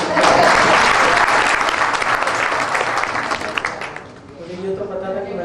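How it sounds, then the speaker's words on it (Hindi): Strong sustained applause from a crowd at a hasya kavi sammelan comedy poetry event, loud dense clapping that gradually thins and fades, giving way to a voice speaking at the end. "पूरा सदन जोरदार तालियां"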